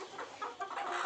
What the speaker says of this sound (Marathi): ह्या जितक्याही कोंबड्या मित्रांनो आपल्याला ह्या इन्क्युबेटरद्वारे तयार केलेल्या गावरान कोंबड्या आहे